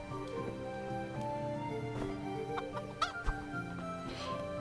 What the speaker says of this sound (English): Chickens. Hello, chickens.